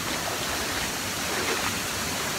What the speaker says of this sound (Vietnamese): Thác ở đây nước nó phun ra như như sương mù luôn nha các bạn.